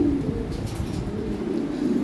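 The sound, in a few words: Lahori pigeons cooing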